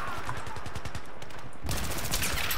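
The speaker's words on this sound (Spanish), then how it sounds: "Bueno, ese le reviento a balazos." Gunfire from the video game Battlefield 3: a rapid automatic burst of evenly spaced shots, followed by a louder, denser stretch of firing and noise near the end.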